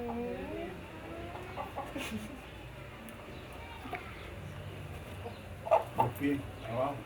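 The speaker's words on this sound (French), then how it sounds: "C'est à Elegua que l'on va sacrifier un coq pour qu'elle ouvre la voie" Rooster about to be sacrificed to Elegua in a Cuban ritual, faint clucks and squawks scattered under talking and background murmur, with a few louder, sharper cries near the end.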